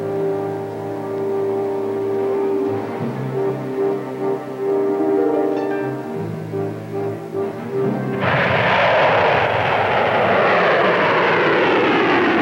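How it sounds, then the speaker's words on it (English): A 1964 Pershing missile test launch in the field: a steady droning engine hum with harmonic tones, then a sudden loud broadband roar that sustains to the end. "By dawn of 20 August, they were ready to fire the first missile of the test series"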